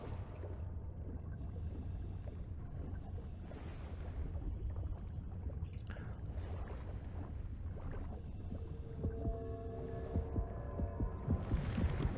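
Heartbeat in the underwater game Depth, a low, steady throbbing pulse under a droning underwater hum, growing a bit more agitated toward the end with no speech.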